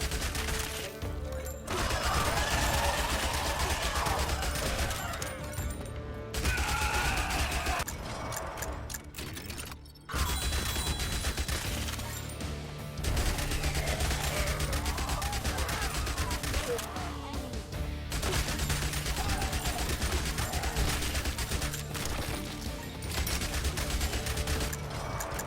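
Rapid SMG gunfire in a zombie survivors video game, a continuous dense rattle of shots mixed with clanks and impacts, running almost without pause and broken by two brief drops near six and ten seconds.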